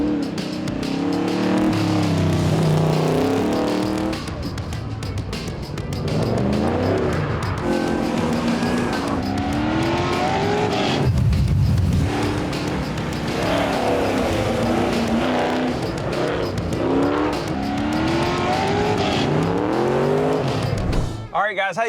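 A stock Chevrolet C10 pickup races hard at Beach Bend Raceway's Pro Touring Truck Shootout, its engine roaring loud and close with rising and falling revs, brief tire squeals, and a short lull midway.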